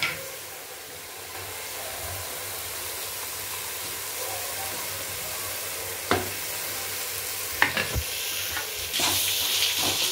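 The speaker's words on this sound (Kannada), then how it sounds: "ಇವಾಗ ಚೆನ್ನಾಗಿ ಸ್ವಲ್ಪ ಹಾಗೇ ಮಿಕ್ಸ್ ಮಾಡ್ಕೊಬಿಡೋಣ ಈ ರೀತಿ" Ground coconut, coriander and gram masala being stirred into a simmering fish curry, with a steady soft sizzle, scraping spoon strokes and a few sharper clanks against the pot near the end.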